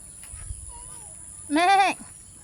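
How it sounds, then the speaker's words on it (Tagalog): A single loud, close goat bleat on a farm in the Philippines, a wavering nasal cry lasting under half a second, after a faint higher call and quiet background. "mga kambing ni Uncle"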